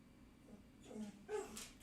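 Brewski the dog whines for attention in short, faint whimpers and yips close by, with soft rising cries breaking through a quiet indoor room.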